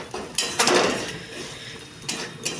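Ground cumin and coriander fry in a pan for a mild potato and pea curry. A utensil gives a few scraping, clinking strokes against the pan, close and moderately loud, with quieter sizzling in between.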